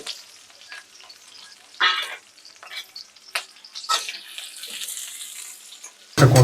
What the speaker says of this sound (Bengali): পেঁয়াজ দিয়ে দিচ্ছি এখন আমি ফার্স্টে